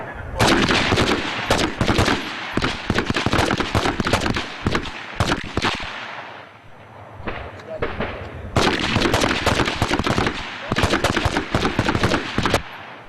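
Rapid bursts of gunfire from weapons on an army basic-training firing range ring out loud and close, in two long clusters of shots split by a brief lull, with shouted commands mixed in.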